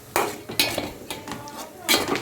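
A utensil knocks and scrapes against a pan while stirring coconut shrimp curry with turmeric and chili powder, giving a few separate clinks and clatters, close and clear.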